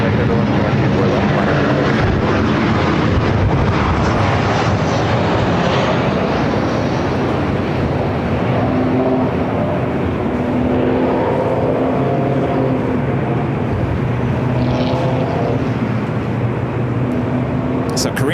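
Airplane at LAX airport, a steady loud broadband engine roar filling the whole stretch without a break, distant and continuous, with no clear speech.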